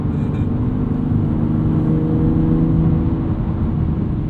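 A 2021 BMW M2 Competition with a 6-speed manual gives a loud, continuous low exhaust drone while driving, heard from inside the cabin with a steady engine hum and no talking.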